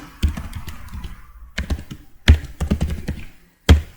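Close-up typing on a computer keyboard: bursts of quick key clicks separated by short pauses, ending with a single firm keystroke.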